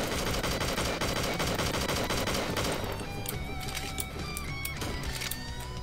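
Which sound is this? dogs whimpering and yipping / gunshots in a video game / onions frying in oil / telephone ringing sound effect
gunshots in a video game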